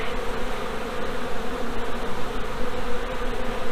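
Honeybees buzz steadily during an inspection of several hives, a dense, close, continuous droning hum that swells and dips slightly, with no talking.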